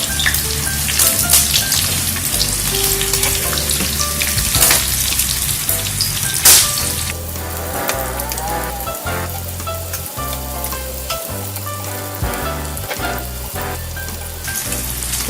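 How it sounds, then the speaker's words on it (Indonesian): Risoles, savory Indonesian rolls, deep-fry in hot oil with a loud, dense, continuous sizzle and crackle, close up, broken by occasional stirring or shifting noises. "Kita goreng."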